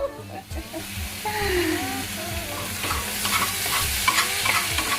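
Methi muthias sizzle in a pan as it is shifted, a close sizzle with scraping stir sounds that build and crackle over a few seconds, with brief background voice-like tones.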